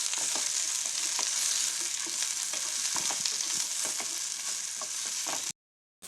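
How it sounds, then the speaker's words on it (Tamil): Chopped onions sauté in hot oil in a pan, giving a steady, close sizzle with scattered crackles and the occasional scrape of a stirring spoon. No one speaks, and the sound breaks off abruptly just before the end. "இப்போ வெங்காயம் நல்லா வதங்கிடுச்சு"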